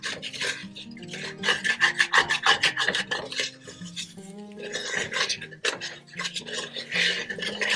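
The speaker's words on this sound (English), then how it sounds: "And stir all that up" A plant-based, oil-free creamy mushroom pasta sauce is stirred in a pan, giving rhythmic scraping and rasping strokes of a utensil against the pan bottom, close and fairly quiet, with no talking.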